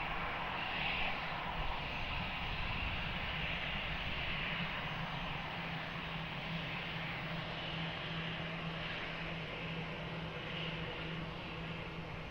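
An airliner takes off from runway 20 at Lisbon Airport, its engines a steady, sustained roar heard from a distance with a faint tonal whine and no talking.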